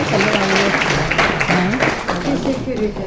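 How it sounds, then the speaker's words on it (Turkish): An audience claps loudly for Selamet Hanım at a jubilee celebration, sustained applause mixed with voices and a speaker talking over it. "bir gürültü alkışlar gelsin Selamet Hanım"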